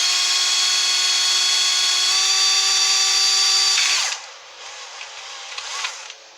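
Power drill boring into a Nixie clock case, a loud steady whine for about four seconds that then winds down abruptly, leaving faint bit scraping and handling noise.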